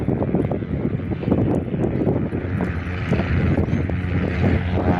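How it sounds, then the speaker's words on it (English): A GA8 Airvan light aircraft departs an airport runway on a windy day, giving a steady rumbling engine drone mixed with buffeting wind noise on the microphone, with no talking. "Here's the GA8 departing."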